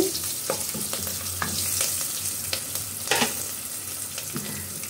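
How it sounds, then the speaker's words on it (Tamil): Green chilies sizzle in hot oil, a steady frying hiss broken by the scrape and clatter of stirring, close by with no voices. "பச்சை மிளகாயும் வதக்கி வச்சு"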